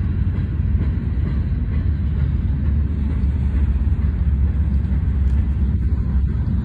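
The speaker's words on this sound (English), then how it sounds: "Here goes the other train." A BNSF freight train in Hanford, California rolls past close by, a loud continuous low rumble with wheel clatter that holds steady throughout.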